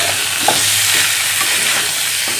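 Potatoes and eggplant sauté in a hot pan with a loud, even sizzle and soft stirring scrapes, close up and continuous, with no talking.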